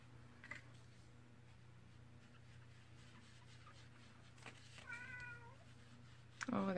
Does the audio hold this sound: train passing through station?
no